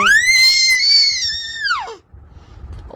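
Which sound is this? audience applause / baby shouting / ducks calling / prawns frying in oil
baby shouting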